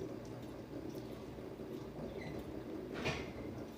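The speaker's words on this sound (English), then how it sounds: "Oh, that's a door down there." A door opens or shuts somewhere downstairs in a house, a faint, distant knock near the end that barely rises above a low, steady room hum.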